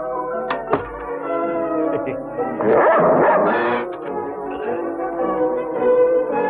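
A very large dog barks and yips in loud repeated bursts, close and dominant, with some whimpering and commotion around it.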